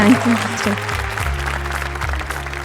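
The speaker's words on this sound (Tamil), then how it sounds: "அதுக்கு நான் உங்களுக்கு ஒரு பெரிய கைத்தட்டல்" Audience applause at the Naanga Ready Neenga Readya Season 2 grand finale, a burst of clapping mixed with music and a speaking voice, fading slightly over its brief length.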